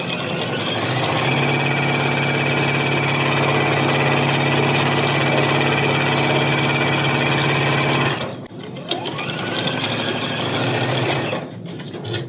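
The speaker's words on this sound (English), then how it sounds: "So I'm just going to sew this onto the first two columns." A sewing machine stitching quilt sections together runs in one loud, steady, close whir for about eight seconds, then stops, and fabric is handled in quieter bursts.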